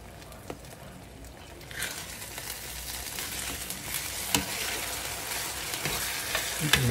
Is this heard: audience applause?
no